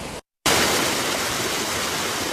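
Floodwater rushes loudly through Bellamy Creek during severe flooding, a constant close roar of water that starts after a short silent gap and fills the rest of the clip.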